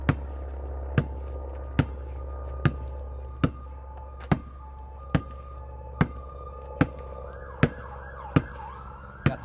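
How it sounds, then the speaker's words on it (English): A passing ambulance or police car siren wails faintly in the background near the end, under steady, rhythmic basketball bounces from dribbling practice. "Ambulance or police car going by."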